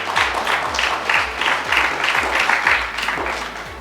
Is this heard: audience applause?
yes